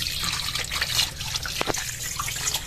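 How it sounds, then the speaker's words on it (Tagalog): Water running and trickling while guavas are washed for pork sinigang, a light steady splash close at hand with a couple of sharper drips or knocks in the middle and no speech. "Yan mga kabayabas at hugasan na po ni mama."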